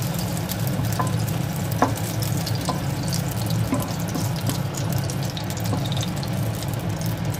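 Raw mango pieces are stirred in hot oil in a pan, giving a steady sizzle with occasional light scrapes and clinks of the spatula. It is close and continuous, with no talking.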